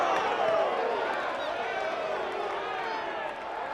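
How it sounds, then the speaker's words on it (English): A college baseball crowd at a Tennessee vs Ole Miss game groans and murmurs in displeasure after a strike call, a steady, dense wash of many voices filling the stadium. "Crowd didn't like that."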